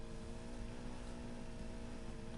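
Steady car engine drone in the racing game Need for Speed Heat, a constant mid-level hum with harmonic tones, held at a modest volume without clear revving peaks.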